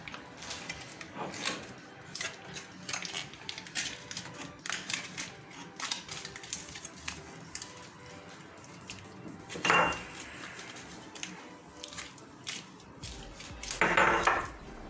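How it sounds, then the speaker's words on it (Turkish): Foil being stretched and crinkled over a hookah bowl, with light crackling, tapping and handling noises in a quiet room and two louder rustling bursts near the end. "Folyolamaya geçelim arkadaşlar."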